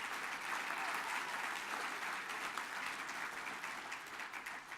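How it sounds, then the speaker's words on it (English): An audience at a 2018 NGLCC event gives a round of applause, a dense, continuous wash of clapping that holds steady and tapers slightly near the end. "Give that a round of applause"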